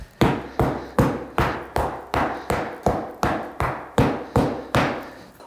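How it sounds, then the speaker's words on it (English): A hammer pounds a leather saddle ground seat flat in about a dozen evenly spaced, solid thuds, each with a short ringing decay, close up and alone. "I'm gonna take a hammer, I'm gonna pound this all down flat."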